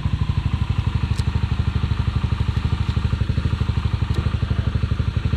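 A Bashan 250 quad ATV engine runs steadily at idle, a loud, close, rapid low thumping pulse with faint clatter and no voices.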